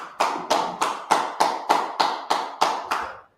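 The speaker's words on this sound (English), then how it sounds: "Clap it up, clap it up. Clap it up." About ten sharp hand claps ring out one at a time in a steady, even rhythm, each loud and crisp with a short decay.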